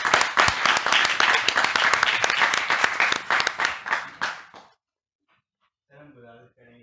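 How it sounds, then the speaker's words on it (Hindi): An audience at a Hindi literature talk claps loudly in a dense burst of applause welcoming the speakers, which fades out and gives way to silence before a voice begins speaking. "आइए जोरदार तालियों से स्वागत करते हैं।"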